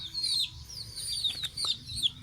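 Pet chickens clucking and squawking close by, several short shrill calls in quick succession over a faint background hum.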